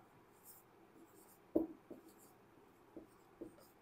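Faint scratchy taps and strokes of writing on a board, a few short scrapes spaced irregularly over a quiet room.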